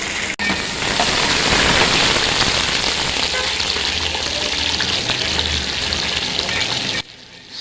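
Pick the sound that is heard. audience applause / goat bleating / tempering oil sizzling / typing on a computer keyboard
tempering oil sizzling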